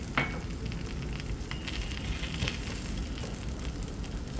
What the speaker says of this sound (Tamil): இப்போ தோசை எல்லாத்தையும் சுட்டு எடுத்துக்கொள்ளணும்